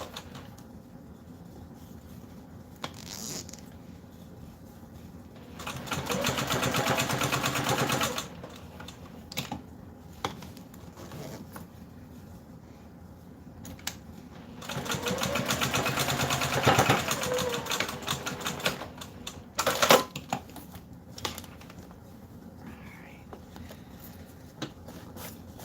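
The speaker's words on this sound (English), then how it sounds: "Now I am stitching at 1/4 inch." A sewing machine stitches a pouch at a quarter inch. It makes two sustained bursts of rapid whirring between quiet pauses and a few faint clicks.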